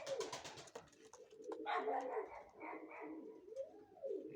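Budapest tumbler pigeons coo softly nearby in a series of low, rolling burbling calls with brief pauses between phrases, quiet and close in a calm setting.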